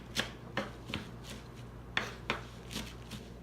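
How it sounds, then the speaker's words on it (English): A knife dices fresh cilantro on a cutting board in a home kitchen, giving soft, quick taps and brushing scrapes in an uneven rhythm, close by and fairly quiet, with no voices heard. "And then you're just going to kind of dice it up."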